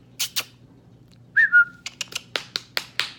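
A person whistling to call a dog, a short rising two-note whistle preceded by a couple of soft taps and followed by a quick series of clicks or taps, close and clear with no speech.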